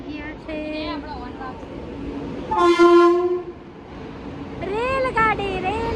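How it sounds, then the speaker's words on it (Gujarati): A train pulls into a railway station, its horn sounding a loud, sustained blast midway amid rumbling rail noise, with people talking nearby before and after. "અમારી ટ્રેન આવી ગઈ છે"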